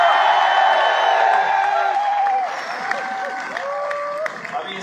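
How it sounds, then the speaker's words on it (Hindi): A large audience applauds and cheers at an anniversary event in New Delhi's Talkatora Stadium, a broad wash of clapping with a voice carrying over it. "एक बार जोरदार ताली बजाइए आपके लिए"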